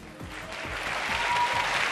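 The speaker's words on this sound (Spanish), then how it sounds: "La ovación del pueblo, lógica." An audience applauds, the crowd's clapping swelling steadily into a dense, building ovation during a Spanish televised summer Grand Prix contest between towns.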